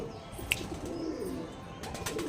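A male Teddy pigeon gives soft, low coos, close by, with a sharp brief chirp near the start and faint background noise.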